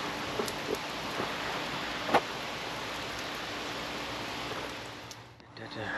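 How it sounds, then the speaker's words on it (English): Steady rain falling on and around a workshop during a 1950 Cadillac hearse restoration, a dense continuous hiss with a few faint drips and taps, fading briefly near the end. "getting rained on apparently"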